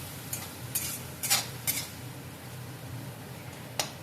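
Masala spice paste being stirred in a pan for a bhetki fish dish, heard as soft scattered scrapes and short stirring strokes over a faint steady sizzle, with no talking.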